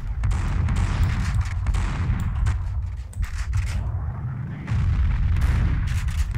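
Shotgun blasts in a firefight in Max Payne 2, heavy repeated booming shots close up over a dense, rumbling game soundscape with little pause between them.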